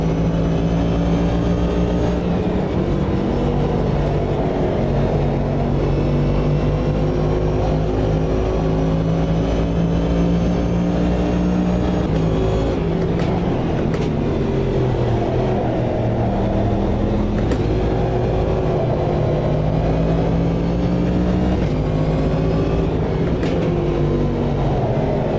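Race car engines roar continuously through a lap at Spa-Francorchamps in the Automobilista 2 sim racing game, with loud sustained revving that rises and falls as the cars shift gears and brake, shifting pitch throughout.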